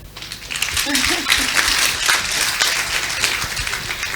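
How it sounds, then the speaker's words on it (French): An audience at a conference session applauds, a broad steady ripple of many hands clapping at moderate distance, with some voices audible underneath. "Merci d'applaudir."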